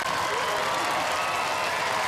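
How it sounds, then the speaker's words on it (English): An audience at a Robot Wars championship applauds the new UK champions, a dense, loud, continuous wash of clapping with a few voices mixed in. "Cue the applause."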